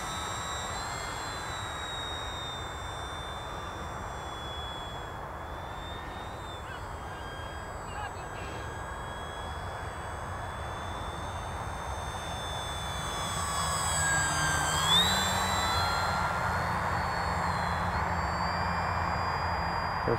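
A Durafly Tundra RC model airplane flies in calm early-morning air, its thin electric motor whine steady at a distance and swelling somewhat louder toward the end, with goose-like honks faintly in the background.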